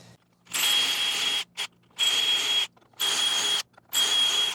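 An electric drill bores dowel holes through a dowelling jig into a workpiece clamped in a vise, running in four steady bursts of about a second each with sharp stops and short quiet gaps between.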